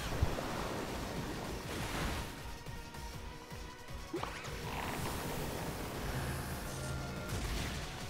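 Muddy Water, a water attack in a Pokémon video game battle, plays as a rushing, wave-like splash that swells and crashes continuously, loud and without talk.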